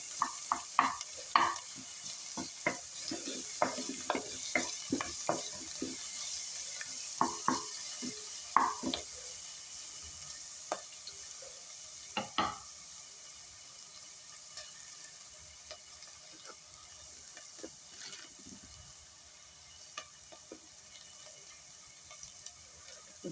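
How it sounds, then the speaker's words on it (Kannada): Pepper roasts in ghee in a pan for pepper rice, with repeated scraping stirs over a soft, steady sizzle that fades slightly as the stirring slows. "ಒಂದು ಸ್ವಲ್ಪ ಪೆಪ್ಪರ್ ಎಲ್ಲ ತುಪ್ಪದಲ್ಲಿ ರೋಸ್ಟ್ ಆಗಬೇಕು"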